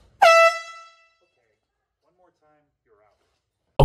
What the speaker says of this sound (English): Oh, it was an air horn.